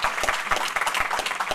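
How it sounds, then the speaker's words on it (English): Applause from a conference audience for the students behind the event, a dense burst of many hands clapping steadily throughout with no talk. "I would just kind of like to ask you for a kind of big, big applause for all of them who actually made it happen."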